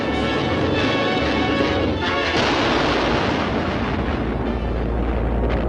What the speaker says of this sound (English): set a new standard for miniature explosions, fires, and crashes